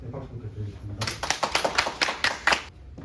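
An audience at the Korean Maritime Law Association's 2021 spring academic conference gives a short round of applause: a quiet start, then a brisk run of close, distinct hand claps lasting under two seconds.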